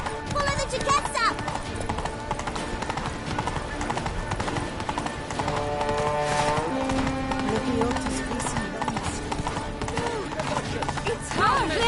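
Horse galloping in The Witcher 3: Blood and Wine, a quick clip-clop of hooves running continuously under shouted dialogue and game music.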